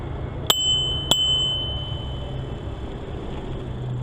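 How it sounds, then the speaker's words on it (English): Two sharp rings from the handlebar bell of a Yuba Spicy Curry cargo e-bike, about half a second apart, each ringing on briefly over steady background rumble. "Light comes with the bell, which is handy"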